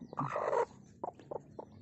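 A fighting cock clucks close by, starting with a longer throaty call and then giving several short, spaced clucks in a quiet setting.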